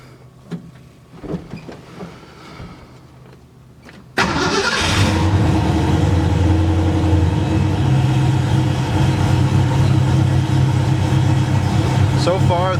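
A turbocharged Foxbody Mustang engine cranks and fires for its first start after quiet shop sounds and faint talk, then settles into a loud, steady, rumbling run close by.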